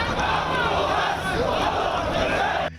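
Anti-government protesters rioting in the streets of Beirut, a loud roaring crowd with sustained shouting and yelling that fills the scene before cutting off abruptly.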